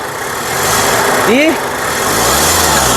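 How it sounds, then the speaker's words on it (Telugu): A 2020 Hyundai Creta SX Plus AMT engine runs at a steady idle throughout, with a brief rising tonal chirp partway through over the constant hum. "సింగిల్ సెల్ఫ్లో కార్ స్టార్ట్ అయితే ఎటువంటి స్టార్టింగ్ ట్రబుల్ అయితే లేదు"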